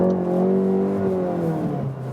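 VW Golf GTI Clubsport, a 300-horsepower front-wheel-drive hot hatch, accelerating hard in sport mode, its exhaust note rising in a steady loud drone with climbing engine pitch, heard alone without talk.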